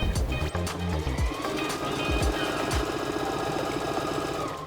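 A sewing machine stitches a seam on a plaid t-shirt, giving a continuous rapid mechanical rattle that stays loud throughout with a few thumps near the start.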